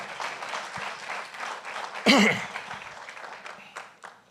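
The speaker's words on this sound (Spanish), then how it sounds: "Denles un aplauso." A church congregation applauds during a service with a visiting pastor, a diffuse wash of clapping mixed with voices, punctuated by a brief loud vocal burst midway before settling down.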